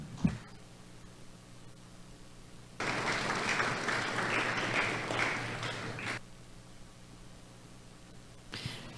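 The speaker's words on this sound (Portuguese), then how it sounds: "peço que educadamente receba com uma salva de palmas." Applause from an audience at a public hearing on cultural funding in Jaú, Brazil; a quiet room hum gives way to about three seconds of steady crowd clapping, which then stops abruptly.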